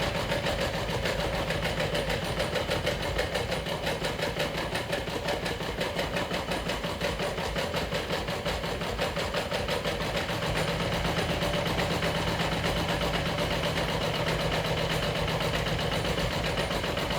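Sewing machine stitching slowly along a curve on a bag's exterior, a steady rapid mechanical whir with fast regular needle ticks, close and continuous, no talk.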